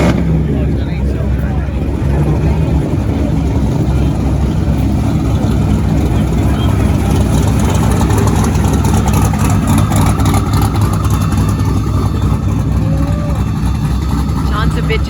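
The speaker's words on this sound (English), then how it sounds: "I'm guessing it's an 8-cylinder. It's very loud." An 8-cylinder muscle car engine runs loud and steady at a Friday night car meetup, a continuous low rumble that fills the scene, with people talking nearby.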